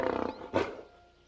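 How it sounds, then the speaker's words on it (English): A lion roars in a single throaty call: a rough pulsing growl swells and then breaks into a louder, brighter burst before fading out, close and clear with no talking. "That's a lion roaring."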